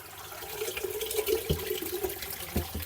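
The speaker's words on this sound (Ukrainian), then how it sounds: "І файно-файно буду їх промивати холодною водою." Cold tap water runs and splashes steadily, with a few soft knocks and thuds as dumplings are rinsed under the stream.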